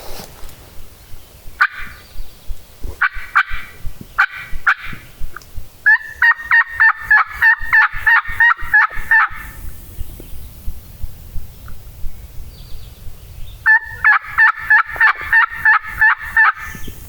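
Wild turkey gobbling outdoors on a public-land hillside during a hunt, two distinct rattling gobble bursts at moderate distance, separated by a pause, with scattered clucks and footsteps around them.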